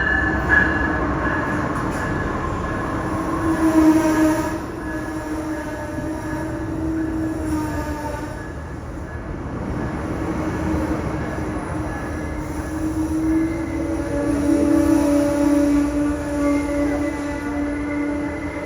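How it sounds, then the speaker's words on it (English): An Amtrak Superliner long-distance train led by two new Siemens ALC-42 Charger locomotives pulls into a station, a loud continuous rumble of rolling wagons with faint wheel squeal that swells and eases along its length. "our train pulled in, led by 2 of Amtrak's brand new Siemens ALC-42 Charger locomotives"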